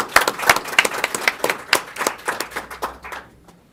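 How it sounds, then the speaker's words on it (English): A small group of attendees at a school board meeting claps briefly, with distinct, fairly close hand claps that fade out after a few seconds. "Let's clap."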